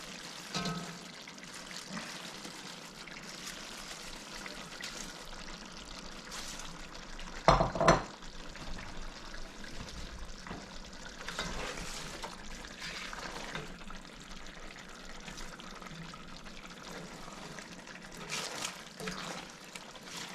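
A whole cabbage goes into a pan of cooked chicken, giving low steady cooking noise with soft stirring and scraping, a sharp clatter of pan or utensil near the middle, and a few quieter knocks later, with no talking.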